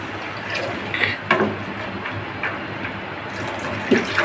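Water pours into a pot of whole lentils, a soft, continuous splashing and trickling with a few brief clinks, fairly close and without talk.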